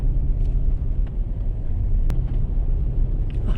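Toyota 4Runner TRD Off Road driving on snowy streets in a blizzard, a steady deep rumble of engine and tires from inside the cabin, with one sharp click partway through.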